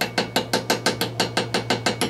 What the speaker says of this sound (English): I'm just going to tap all the way around and make sure we're seated all the way around